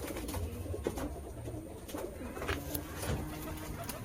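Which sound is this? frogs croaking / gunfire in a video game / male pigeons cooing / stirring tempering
male pigeons cooing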